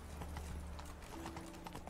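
Hooves of the horse Roach in The Witcher 3 clip-clopping in a steady trotting rhythm, soft and fairly quiet under low background game ambience.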